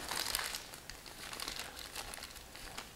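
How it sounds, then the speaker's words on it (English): A plastic bag being squished into a corner crinkles and crackles continuously at close range during croissant-making in a kitchen. "you can just squish it into the corner of the bag"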